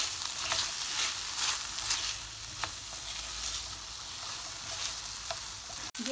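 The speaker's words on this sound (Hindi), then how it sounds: "और अब हम इन सबको मिक्स कर लेते हैं अच्छी तरह से।" Sweet chilli sauce and other sauces with onion being stirred and mixed in a frying pan for chicken sizzler, giving a steady close sizzle with scraping stir strokes throughout and a sharp knock near the end.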